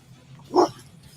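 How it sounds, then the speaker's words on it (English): A single short, sharp dog bark rings out clearly close by against a quiet background. "And you hear the dog bark."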